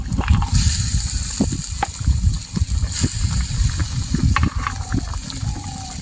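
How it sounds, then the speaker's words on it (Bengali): Fried fish goes into boiling curry water for a green banana and mola fish curry, with splashing and bubbling water sounds and a few sharp knocks, close and fairly loud. "ফুটে এসছে এবার ভেজে রাখা মাছগুলো দিয়ে দেবো"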